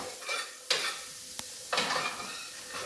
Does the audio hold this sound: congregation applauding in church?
no